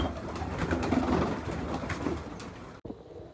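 Pigeons on a rooftop just after release, cooing and fluttering in a steady, busy wash of bird sound, cut off abruptly near the end.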